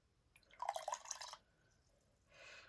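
Water trickles into a container of expander fishing pellets, a short faint pouring burst with a few drips, quiet and close, followed by a second softer splash after a pause.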